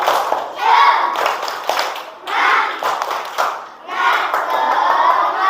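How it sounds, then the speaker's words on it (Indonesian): A classroom group of children claps a spirit clap in rhythm, quick bursts of patterned clapping mixed with shouted chanting voices, loud and close. "Tepuk semangat."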